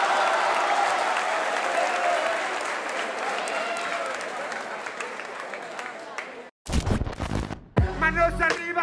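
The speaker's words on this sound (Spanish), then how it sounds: "Por favor, un aplauso." A live comedy-show crowd breaks into loud, dense applause with cheering that rolls on for several seconds, then cuts out abruptly as a voice starts talking over music.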